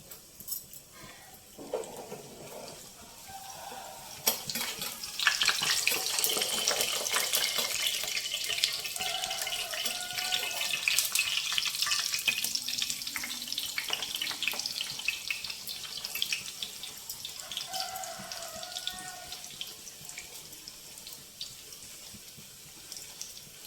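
Puri fries in hot oil with a dense, bubbling hiss that swells after a few seconds and stays steady, close and fairly loud, with faint clinks now and then.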